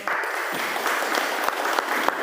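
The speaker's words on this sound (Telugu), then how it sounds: "చప్పట్లు తడితే బాగుంటుంది" An audience at the Pyramid Jetavanam meditation ashram claps for their guru: dense, steady applause from many hands, fairly close, lasting throughout with no speech over it.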